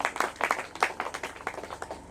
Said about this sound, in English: Please give a round of applause for the